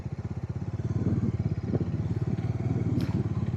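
A motorcycle rides along a scenic road, its engine chugging in a close, steady pulsing rhythm with a low throb throughout, and a faint clatter now and then over the running engine.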